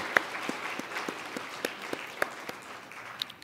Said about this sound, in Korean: 자, 우리 한번 박수 한번, 환영의 박수 한번 줍시다.